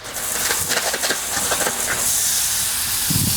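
Half a pound of ground beef and half a pound of sausage brown together in a hot pan, giving a loud, steady, close sizzling hiss that barely wavers throughout.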